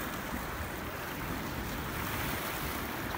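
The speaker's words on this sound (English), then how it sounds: "We've got water coming over the break wall." Waves wash over a break wall on the upper Niagara River in muddy water and high wind, a steady loud broadband roar of surf and gusting wind with no distinct breaks and no talking.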